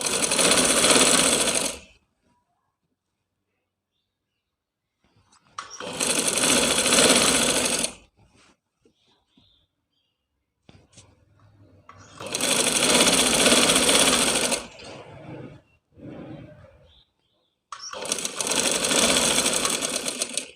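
Sewing machine stitching a design onto trousers, running in four loud steady bursts separated by silent pauses, with no talking over it.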